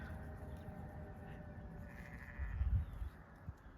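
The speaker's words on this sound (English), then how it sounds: "Look at these sheep." Sheep bleat outdoors in the Oxfordshire countryside, England, over a steady low rumble, with a louder burst of bleating near the end.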